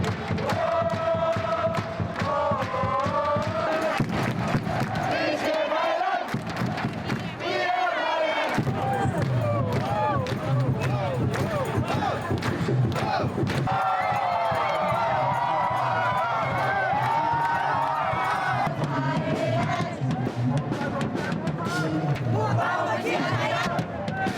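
A large Thai crowd cheers and chants for Thailand in loud, sustained waves of shouting and singing, with nearby voices chattering throughout.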